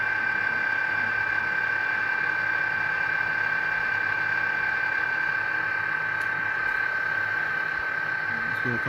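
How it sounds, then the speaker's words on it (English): A car engine idles with a steady, even hum and a constant whine throughout, close and unchanging, with no talking. "here's what she sounds like idling."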